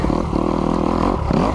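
Kawasaki KX250X dirt bike engine running on snow, a loud, close two-stroke buzz that holds steady with brief revving dips and a fresh surge near the end, no one talking.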